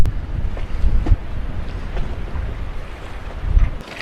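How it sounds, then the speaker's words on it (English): A strong gust of wind buffets the microphone on a sailboat at anchor off Jost Van Dyke ahead of a storm, with loud, rumbling roar surging and easing over several seconds and faint water sloshing beneath. "We just got a pretty big gust."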